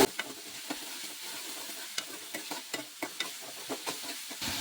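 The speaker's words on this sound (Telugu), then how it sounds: "ఆయిల్లో వేసిన తర్వాత ఈ విధంగా మొత్తం కలిపేసుకోవాలి." Carrot pieces sizzling in oil in a pan, a soft continuous fry hiss punctuated by frequent light clicks and scrapes of a spoon stirring, close and fairly quiet with no voices.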